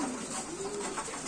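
A chocolate checker pigeon cooing, a single short low cooing call close by, over a soft background hiss.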